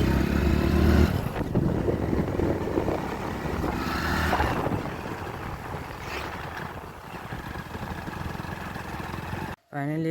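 A motorcycle rides along the road to Paradise Beach near Gokarna, with engine hum buried under heavy, gusting wind rumble that surges and fades. A brief dropout occurs near the end.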